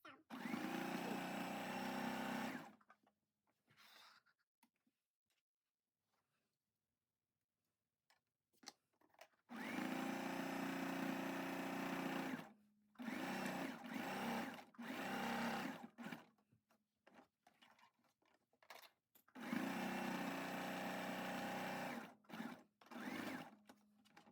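A sewing machine runs a straight stitch on a fabric pouch in three loud, steady bursts of whirring, with quiet pauses and small clicks of handling in between.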